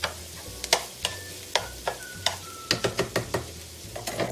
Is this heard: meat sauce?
yes